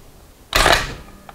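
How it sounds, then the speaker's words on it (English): Ratchet cocking mechanism of a US M3 grease gun is worked once, producing a single sharp metallic ratcheting burst at close range, followed by a faint click. "the original M3 had an interesting way of cocking. Had a ratchet here"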